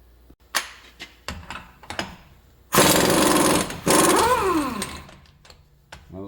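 On a 2016 Dodge Grand Caravan's front axle hub nut, an impact gun first gives several short rattling bursts, then two long hammering runs, the second one winding down.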